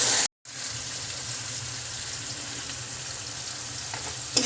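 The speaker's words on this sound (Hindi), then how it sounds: "अब मैं इसमें डालूँगी टमाटर, ब्रिक कटिंग किया हुआ है। अच्छी तरह भून लेंगे।" Finely chopped tomatoes fry in a pan with garlic and ginger, a steady close hiss of sizzling oil that runs on after a brief silent gap at the start, with no voices over it.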